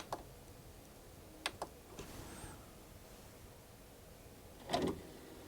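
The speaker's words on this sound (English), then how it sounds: "Let's open the tray," The motorized disc tray of a Marantz Model 30 audio device sliding open, faint mechanical clicks and a soft whir near the start, then a louder clunk as the tray stops, all quiet and close.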